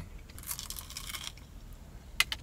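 Someone eating a deep fried brownie at an A&W restaurant, with soft close chewing and a couple of brief crunchy bites near the end, faint and without talk.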